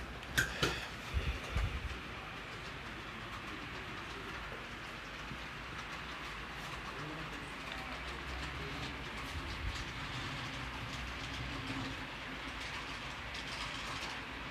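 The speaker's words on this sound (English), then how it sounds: "Okay, watch your train here." A model train runs along the tracks of a layout on the Guernsey Valley Model Railroad, a steady low rumble with light clickety-clack wheel rhythm after a few sharp knocks at the start.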